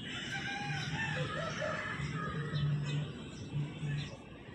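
Roosters at a rural poultry market, the Feko Haat in Jhargram district, West Bengal, crow and cluck repeatedly amid steady crowd noise and market bustle.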